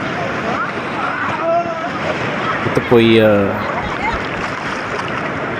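Strong sea waves at a beach in Palawan make a loud, continuous roar with wind buffeting the microphone, while someone talks over the surf.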